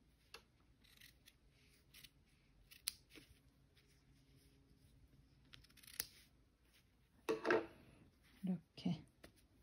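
Scissors snipping shirt fabric during a clothing repair, several quiet isolated cuts followed by a louder burst of crisp snips, with a person speaking softly in between.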